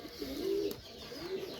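Pakistani pigeons cooing close by, two soft, low rolling coos separated by a short pause, with no talking over them.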